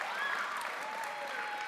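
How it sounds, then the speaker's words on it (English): Steady applause from an audience at an esports grand final, a dense even wash of clapping that holds at a moderate level throughout. "A warm applause for Tween here."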